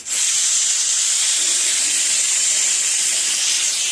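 Steam rushes from a pressure cooker boiling potatoes on a village kitchen stove, a loud continuous whistle-hiss that holds steady for several seconds with no voices.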